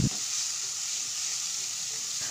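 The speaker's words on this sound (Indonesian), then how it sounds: "Okey, dah siap tumis-tumis bawang ni." A blended shallot and garlic paste sizzles steadily in a hot pan, a constant bright frying hiss with a soft knock at the start and no voices.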